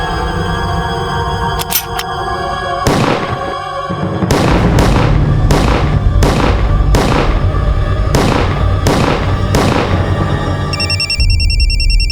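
Gunfire in a TV crime drama scene: a rapid run of loud, sharp shots in a fairly even rhythm rings over a dense background score, close and forceful, with no talk over the shots.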